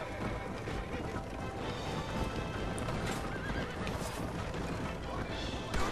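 A horse whinnies in Red Dead Redemption amid steady clip-clop of hooves and a dense, noisy background, fairly loud throughout.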